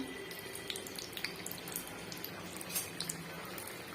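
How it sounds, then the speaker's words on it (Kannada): Badami puri dough frying in hot oil gives a steady bubbling hiss with scattered small pops, moderately quiet and close, with nobody speaking. "ಈ ಥರ ಕಾದಿರೋ ಎಣ್ಣೆಯಲ್ಲಿ ಹಾಕಿ ಒಂಚೂರು ಬ್ರೌನ್ ಆಗೋ ಥರ ಬೇಯಿಸ್ಕೋಬೇಕು"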